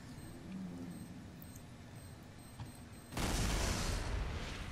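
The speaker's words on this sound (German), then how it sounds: "Sehr kontrollierte Explosion." A sudden broadband blast in Left 4 Dead 2 kicks in about three seconds in and rumbles on loud to the end, after a stretch of quieter game ambience.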